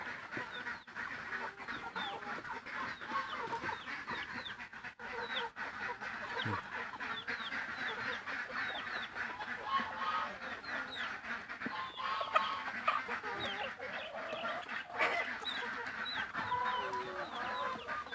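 A flock of black chickens clucks and chatters continuously while feeding on termites, many birds overlapping at moderate distance, with occasional louder calls standing out.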